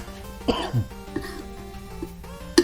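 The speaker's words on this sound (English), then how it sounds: "I think I just coughed it" A single cough near the microphone during a craft session building a Mega Man helmet, with a throat-clearing sound, then a few small quieter noises and a short sharp burst near the end.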